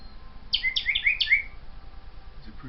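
A young African grey parrot gives a quick burst of four or five bright, descending chirps close by, then falls quiet apart from faint room noise.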